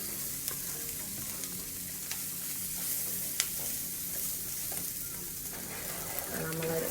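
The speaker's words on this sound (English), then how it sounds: "I'm gonna let it saute a little bit longer" Vegan sausage crumbles with celery and peppers sauté in a pan. A steady, fairly quiet sizzle carries through, with occasional light clicks and scrapes from stirring and no voices.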